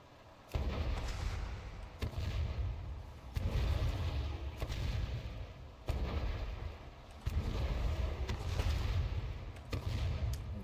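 Explosive hunter shots in the video game World of Warcraft, a series of deep booming blasts at irregular intervals, each followed by sustained rumbling, with game ambience between.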